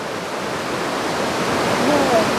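Water rushing and splashing as a caught black fish is washed, a steady loud wash of noise throughout with a faint voice-like trace near the end.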